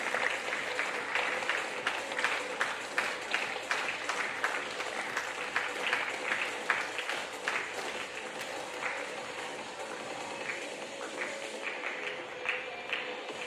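Steady, dense clapping from a conference audience on artificial intelligence and sustainable business, continuing evenly at moderate volume and thinning slightly near the end.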